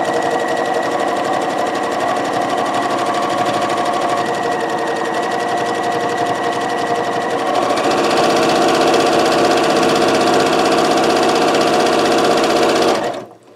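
A sewing machine sewing fabric bowl potholders runs in one long, loud, steady whirring hum, speeding up slightly partway through, then stops abruptly at the end, close and alone with no talk.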